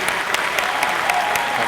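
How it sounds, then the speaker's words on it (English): Steady audience applause at a tech and storytelling conference session, dense and even clapping filling the whole moment without voices. "please give a round of applause to Mark Adams from Vice Media."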